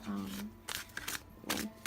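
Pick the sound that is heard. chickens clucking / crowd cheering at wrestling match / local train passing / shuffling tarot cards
shuffling tarot cards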